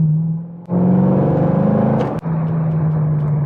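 Loud, close V8 of a 2011 Corvette Grand Sport roaring through its quad exhaust with non-working butterfly valves, a steady deep rumble that surges as it revs, with brief dips near the start and middle.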